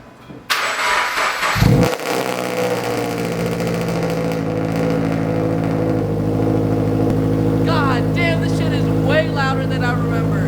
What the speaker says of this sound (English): now we're gonna do a little cold start for the FRS because the battery is completely dead